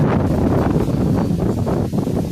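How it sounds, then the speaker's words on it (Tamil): Strong wind gusting outdoors with rain, a dense, steady roar buffeting the microphone throughout, loud and close with no speech. "இந்த காற்றானது மழை அந்த இரைச்சல் உங்களுக்கு தெரிகின்றது பார்த்தீங்களா?"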